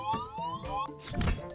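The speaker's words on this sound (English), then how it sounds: "You heard the sound of stun there." A stun sound effect from the roguelike autobattler video game Might & Mushroom: bright, rising synthetic tones sweep upward like a short siren, then end in a sharp, noisy burst with a low thump.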